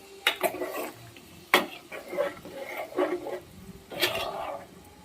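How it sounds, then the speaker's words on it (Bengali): Sago khichuri with spices is stirred in a pot, a spoon scraping and clanking against the metal in short irregular strokes, fairly close and clear. "এবার সব কিছু দিয়ে সাবুর খিচুড়িটা মশলার সঙ্গে মিশিয়ে নেবো সুন্দরভাবে"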